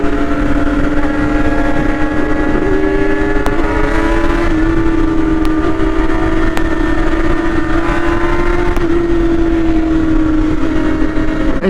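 A group of motorcycles, including a BMW S1000RR, cruises a Dallas freeway, with a loud, steady engine drone and a rising and falling harmonic whine over constant wind roar.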